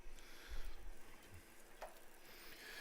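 Bacon frying in a pan as its fat renders, a faint, steady sizzle with a few soft scrapes of a spatula.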